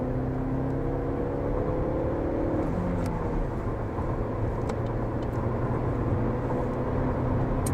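A Vauxhall Astra J 1.6 pulls hard in third gear on a test track, its engine drone climbing steadily in pitch under continuous road and wind roar.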